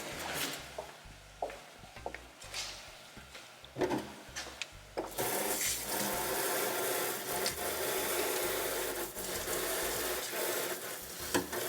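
Egusi melon seeds being stirred in a cooking pot, first light scrapes and knocks, then a dense steady hiss of cooking for the rest, close and fairly quiet.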